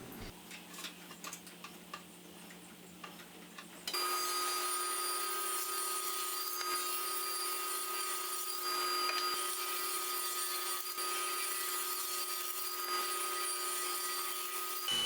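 A saw fitted with a ripping blade cuts through wood for a coffee table build. Quiet workshop tapping gives way to a loud, steady, whining cut that runs unbroken to the end.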